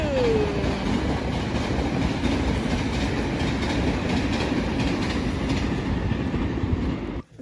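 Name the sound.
train passing on rails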